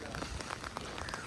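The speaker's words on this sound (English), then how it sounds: "It's raining." Rain falling at a beach, a steady broadband patter with scattered droplet hits close by, heard alone without talk over a short stretch.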